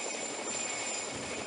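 A PZL Mi-2 helicopter carrying five passengers shortly after takeoff in Heby, Sweden, before losing power, gives a steady, dense whirring drone that holds evenly throughout with no voices.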